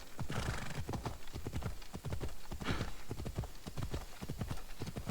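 Rapid, steady hooves clip-clop across the whole stretch, close and fairly loud, with a brief whinny mixed in.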